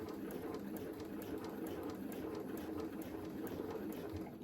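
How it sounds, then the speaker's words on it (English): A sewing machine stitches a dress seam with a steady, close mechanical whir and quick regular needle ticks that run without pause, and no one talks. "I'm gonna sew down to where the top of my pocket starts."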